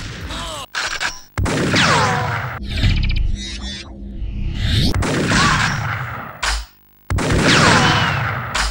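Shotgun blasts in a first-person shooter game, several loud, sharp reports spaced a second or two apart, each trailing into a reverberant decay, with brief mechanical clacks between shots.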